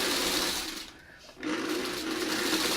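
A sewing machine stitches a 1933 bat quilt block with a Y seam, running in a steady, close whirring drone that pauses briefly in the middle and then resumes at full speed.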